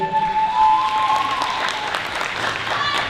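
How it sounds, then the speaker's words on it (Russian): Loud audience applause at a KVN comedy show, a continuous wash of clapping from a crowd, with a voice briefly audible over the start. "Аплодисменты."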